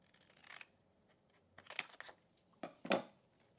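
Scissors snip through paper while cutting it into boxes for a scrapbooking layout, a few short crisp cuts spaced out over a quiet room.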